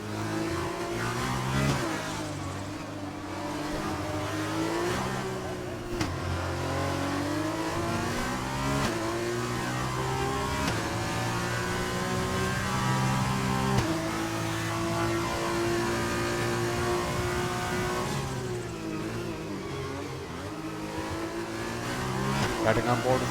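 F2 race cars in an Xbox racing game at the Azerbaijan Grand Prix, engines droning and revving continuously with shifting pitch, under a commentator's steady talk.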